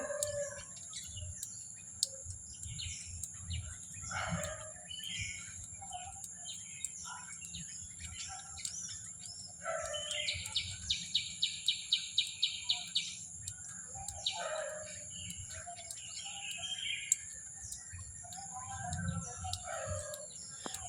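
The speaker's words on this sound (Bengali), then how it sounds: "পাখিগুলো খেলা করছিল" Birds chirping and calling outdoors in scattered bursts, including a rapid trilling run, over a faint steady electrical whine and low background rumble.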